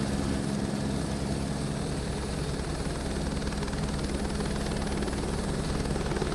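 Continuous engine and propeller roar from an aircraft preparing to take off from runway 10 in Microsoft Flight Simulator 2024, a steady, even drone with no speech over it.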